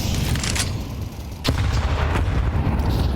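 Two grenades exploding in a Counter-Strike professional match, Fnatic versus Eternal Fire at ESL Pro League: a dense roar of blasts and gunfire, a sharp burst near the middle, then continued loud booming with no voices.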